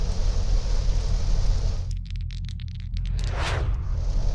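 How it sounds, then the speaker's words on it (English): Heavy rain pounds on a moving car, a loud, steady wash of noise over the engine's low rumble, briefly thinning for a moment before returning full. "That's coming down pretty good."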